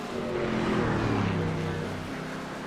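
Racing trucks in a truck series race on the road course at the Glen give off a steady, moderately distant engine drone that swells and fades slightly as they pass, with no talk over it.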